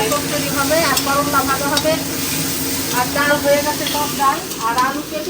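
Bitter gourd (karela) fries in hot oil in a pan, a loud, continuous hissing sizzle close by, while people talk over it throughout.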